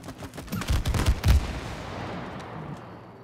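Gunfire in the co-op video game It Takes Two: a rapid cluster of sharp shots in quick succession, then a decaying rumbling tail as the bursts fade out.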